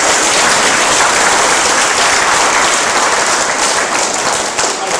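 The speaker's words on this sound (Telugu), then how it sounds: "మంచి టేస్ట్ ఉన్న వాళ్ళు ఒకసారి చప్పట్లు కొట్టండి." Loud, dense applause from an audience at a Telugu comedy performance, a continuous roar of many hands clapping that holds steady for about five seconds with crowd murmur mixed in.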